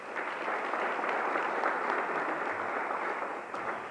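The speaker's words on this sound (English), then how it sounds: "Let's give her a round of applause." A large crowd at a high school hall of fame induction claps steadily and loudly, a dense sustained round of applause honoring an inductee.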